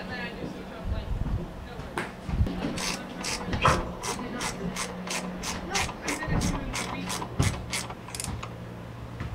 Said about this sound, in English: on the bottom one you're going to put a washer and a nut. Okay, and the nut requires a 10mm socket.